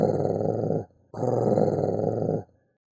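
Two deep, rumbling growls, the first about a second long and the second longer, separated by a brief pause, loud and close.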